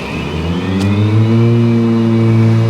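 A motor whines up and settles into a loud, steady droning hum, close by, as the blades of a Ryobi 80V Z54Li electric riding mower spin on high.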